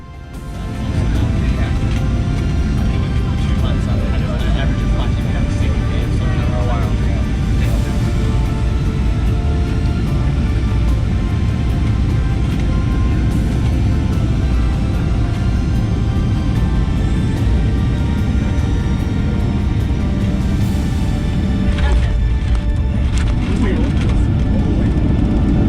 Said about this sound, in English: Touched down on schedule at Cape Town International Airport.